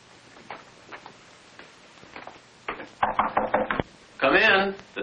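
Knocking on a door in a 1955 film scene: a run of about six sharp raps in quick succession, loud and close, following quiet dialogue and followed by a voice.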